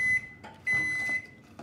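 A microwave oven in a home kitchen gives two long, steady electronic beeps with a short gap between them, loud and close, with no talking over it.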